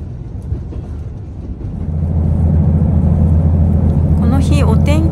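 A JR Kyushu diesel sightseeing railcar between Beppu/Oita and Aso on a non-electrified line, its engine droning low and loud, building after two seconds into a steady throbbing hum with some squealing near the end.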